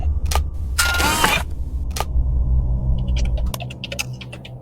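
Computer keyboard keys in Five Nights at Treasure Island clack in a scattered run of sharp clicks, with a louder burst early on over low rumble, then quicker faint taps near the end.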